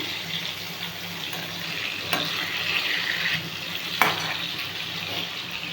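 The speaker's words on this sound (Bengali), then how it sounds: "রকমের ভাজা করছি, বেগুন ভাজা, আলু ভাজা, ঢেঁড়স ভাজা, 3 রকম ভাজা করছি।" Eggplant, potato and okra slices frying in a pan give a steady, fairly quiet sizzle, with a couple of sharp clicks of stirring or utensil contact and no speech.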